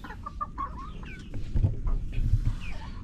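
Dekalb White laying hens in a battery cage cluck and chirp in scattered, overlapping calls close by, over a low background rumble.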